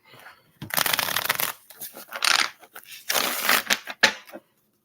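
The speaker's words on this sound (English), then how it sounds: "Let me shuffle my cards really good." Tarot cards shuffled by hand in several close, crisp bursts of riffling and flapping, separated by short pauses.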